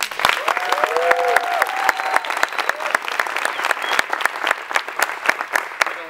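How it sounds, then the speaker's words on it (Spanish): A crowd at an evening business results event gives a strong round of applause to welcome a speaker, sharp close claps standing out over a steady clapping bed, with some brief voices and a whistle-like tone mixed in. "Quiero que me ayuden a recibir con un fuerte aplauso a don Juvenal Palmera."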